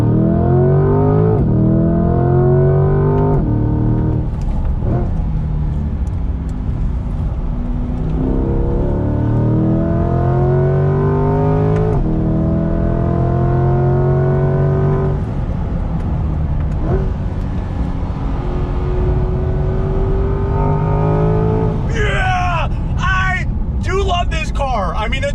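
A 2020 Camaro ZL1 1LE on track, its engine howling through repeated rising throttle pulls and gear changes, loud and close from the cabin, with someone talking over it.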